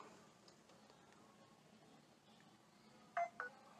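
Two short touch-tone telephone dialing beeps placed for a call, quick and close together near the end, over a faint, quiet room background.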